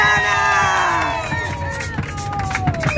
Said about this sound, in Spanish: un aplauso para Juana.